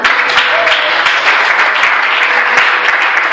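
Congregation at a worship service applauding steadily throughout, a dense continuous wash of many hands clapping with faint voices mixed in.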